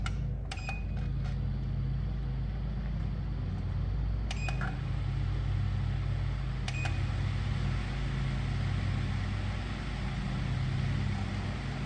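A Sirocco caravan fan running on battery power, a steady loud low whirring hum with a few faint clicks and chirps on top, constant throughout.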